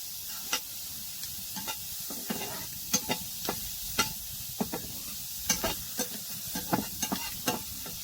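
Spatula scraping and stirring food frying in a pan in a village kitchen in winter, with irregular clicks and soft sizzling over a steady hiss, fairly quiet and close with no talking.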